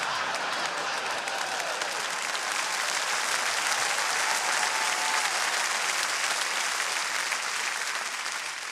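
A comedy festival audience applauding a stand-up comic's grammar joke: loud, continuous clapping from a large crowd, holding steady for several seconds without letting up.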